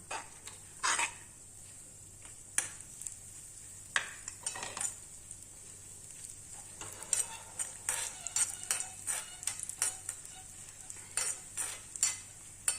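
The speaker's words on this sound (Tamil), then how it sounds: "கொஞ்சம் நெய் விட்டுக்கிறேன் இந்த முதல்ல நம்ம இந்த தேங்காவை வறுத்துடலாம்" Coconut roasting in ghee in a pan, with a steady sizzle and repeated scraping and stirring clinks of a utensil against the metal, fairly quiet and close with no talk.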